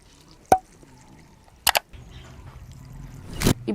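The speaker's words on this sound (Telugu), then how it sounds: "తర్వాత మనం ఇందులో ఒక 2 గ్లాసులు వాటర్ని యాడ్ చేసుకోవాలి." Two glasses of water are poured into a pot holding a tablespoon of fenugreek seeds: a few sharp clacks, then a building, splashy pour that swells near the end, close up.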